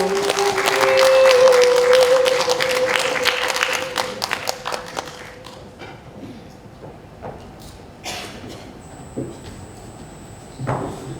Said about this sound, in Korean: 박수로 초대해 주십시오